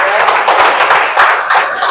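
An audience at an MLM business seminar breaks into applause, a dense, loud burst of many hands clapping together, filling the whole moment at close range.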